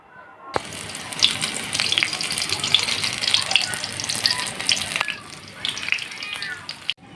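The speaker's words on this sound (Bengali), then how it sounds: "এই ব্যাটারে কুমড়ো ফুলগুলো দিয়ে কোট করে নিয়ে তেলের মধ্যে ভেজে নিতে হবে।" Pumpkin flower fritters coated in batter frying in hot oil, a steady close crackling sizzle with bright bubbling that runs continuously for several seconds, briefly dipping near the end.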